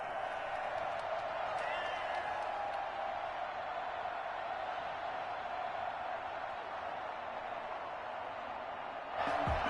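At an NFL game with the Niners hosting the Packers, a big stadium crowd roars in a steady, distant wash of cheering that swells briefly at the end.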